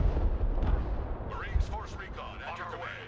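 Mortar fire in the wargame Broken Arrow: a couple of heavy, booming launches in the first half, then a faint chatter of distant battle noise beneath rising and falling game sounds.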